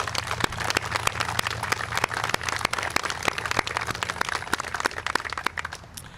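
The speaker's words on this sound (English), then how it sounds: "I just would like to give a big round of applause to Concrete General and everybody who worked on that part of the" A small crowd at an outdoor grand opening ceremony for a shared-use path undercrossing applauds the tunnel construction crew, with scattered, fairly sparse clapping over a low hum.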